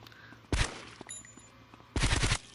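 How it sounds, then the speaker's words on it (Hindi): Gunfire in GTA Vice City mobile during a storyline shootout: two loud bursts of rapid shots about 1.5 seconds apart, with quieter game ambience and small clicks between them. "हम जल्दी से उसके ऊपर फायरिंग करते हैं और उसको मार देते हैं"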